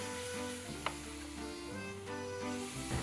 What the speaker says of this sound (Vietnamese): xong chúng ta cho ít bơ vô chảo, chúng ta sẽ chiên cho hơi vàng